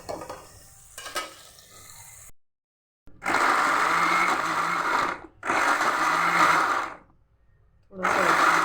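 Kitchen grinder pulverizing garlic and ginger in short loud bursts, whirring for a second or two at a time with silent pauses between runs, after a few quieter handling sounds at the start.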